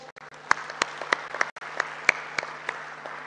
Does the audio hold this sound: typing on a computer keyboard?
no